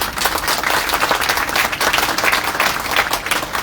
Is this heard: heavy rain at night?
no